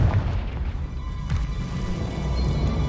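A Confringo fire spell blast in Hogwarts Legacy, a muffled low boom with a brief crackling burst, fairly faint against a steady rumbling game background.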